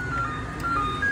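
An ice cream truck's chiming jingle plays in a steady high tune over a low engine rumble, heard continuously through the brief moment.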